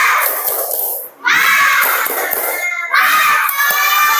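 A class of schoolchildren shouts a spirited clapping chant together in a classroom, in two loud, bright bursts separated by a brief pause.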